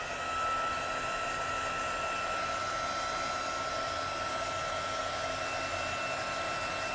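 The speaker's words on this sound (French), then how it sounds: "Et là, je vais revenir chauffer avec mon fer." A heat embossing tool blows steadily to melt embossing powder on Stampin' Up! cotton paper, a continuous whirring hiss at close range for the whole stretch, with no talking.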